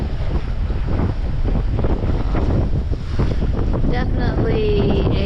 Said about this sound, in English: see those rolling waves out there, and that water crashing over the top of that land